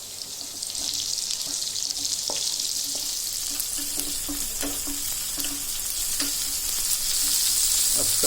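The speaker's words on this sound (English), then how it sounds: "we'll fry the onions until they turn light golden brown" Two sliced onions frying in hot oil with chilies over a high flame, a bright continuous sizzle with soft stirring taps and scrapes, close and steady throughout.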